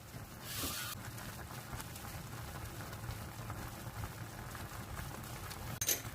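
Meat ramen boiling in a pot, a steady low bubbling and seething simmer that runs throughout at moderate level, with a brief brighter splash of sound near the start and a small clink near the end.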